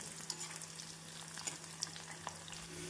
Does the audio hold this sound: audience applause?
no